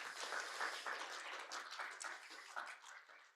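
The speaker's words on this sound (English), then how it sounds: "So please give him another round of applause." A workshop audience on cleaner energy cooperation gives a presenter a quiet round of applause. Soft, scattered clapping is heard at a distance for a few seconds with no voices.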